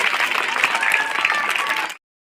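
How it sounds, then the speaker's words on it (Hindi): Audience applause at a school fair, a dense burst of many hands clapping together, steady and fairly loud for about two seconds before stopping abruptly. "ताली थोड़ा जोरदार।"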